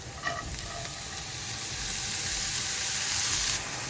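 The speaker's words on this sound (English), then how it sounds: "Now we stir fry this filling." Garlic, chili, ginger, cabbage and carrot filling for vegan Nepali momos stir-frying in a pan, a steady close sizzle and hiss with a few light scrapes of stirring, alone without talk.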